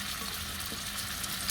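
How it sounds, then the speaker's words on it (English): Pieces of goat meat sear in a hot pan with a loud, continuous hissing sizzle and crackle, close up and steady throughout, with no talking. "just drop these pieces in here until I get a good sear on them"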